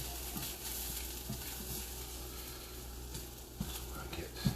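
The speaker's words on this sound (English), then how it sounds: "these onions nice and stirred" Onions sizzle and fry in a pan on a home stove while a utensil stirs them, with steady crackling hiss and intermittent scraping strokes, fairly quiet and close.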